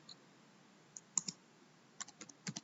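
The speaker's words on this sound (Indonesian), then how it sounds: "di sini teman-teman bisa ketikkan" Keys on a computer keyboard are tapped in short, irregular clusters of faint, crisp clicks over a quiet background.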